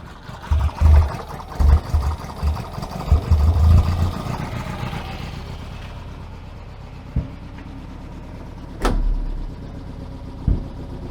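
Hillman Imp engine running with a misfire, close and uneven, with irregular low thumps and stumbles for about four seconds before settling into a quieter idle broken by a few isolated pops.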